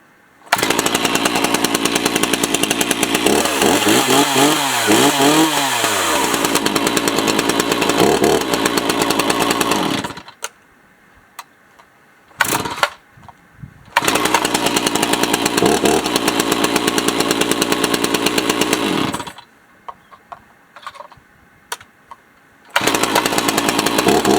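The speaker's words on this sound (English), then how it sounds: "Once it's warmed up, you turn it back on and put your chain brake on and give it a pull." A chainsaw roars loudly and steadily with pitch shifts as it revs, then cuts out twice to near silence before starting up and running again.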